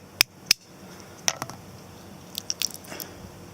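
Nut shells cracking open, a few sharp, close snaps spaced apart with faint crackles and light rattles between them, alone without talk.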